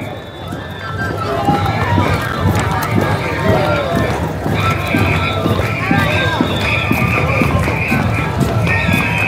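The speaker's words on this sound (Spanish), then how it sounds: "¿Cómo canta ese caballito?" Horse at a lively Peruvian festival presentation, with a neigh amid a steady run of clip-clopping hooves, loud and continuous under a background of crowd and speech.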